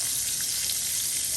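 Cooking oil sizzles steadily in a pan for stir-fried tofu, a loud, even hiss with no pauses and no voices.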